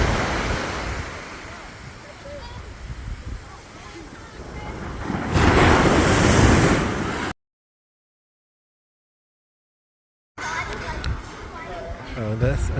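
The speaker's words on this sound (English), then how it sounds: "this is the beach." Ocean surf rolls onto a resort beach in Liberia, Costa Rica, a steady broad wash with a louder surge of breaking waves, wind buffeting the microphone, a gap of silence, then the surf resumes.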